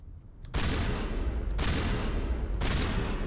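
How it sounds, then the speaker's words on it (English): A shotgun fires three times in the video game Mass Effect 1 Legendary Edition, roughly a second apart, each a loud, abrupt blast that leaves a dense, rumbling wash running straight into the next shot. "That sounds like a Ratchet and Clank gun to me"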